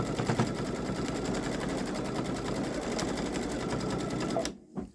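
A Babylock Solaris Vision embroidery machine runs edge-to-edge quilting, stitching in a fast, steady, rhythmic mechanical patter. It holds loud and close for nearly the whole span, then stops abruptly near the end.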